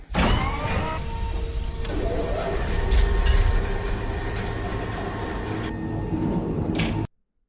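Train passing in the Stardew Valley video game, a steady rumbling roll of rail cars with clanking mechanical tones and a whistle-like high note, loud and continuous before cutting off abruptly.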